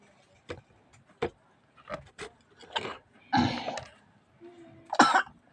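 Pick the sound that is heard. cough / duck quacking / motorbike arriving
cough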